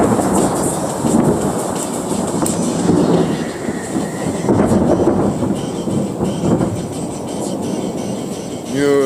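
Thunder after a lightning strike rolls as a loud, sustained low rumble through the whole stretch, with a dense roaring texture, while someone talks intermittently.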